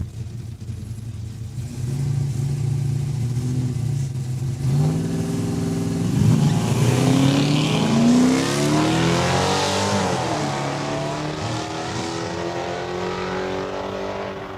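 Drag racing cars, including a Dodge Duster, launch and accelerate at Saskatchewan International Raceway, a loud sustained engine roar rising in pitch through several gear sweeps and then slowly fading as the cars pull away.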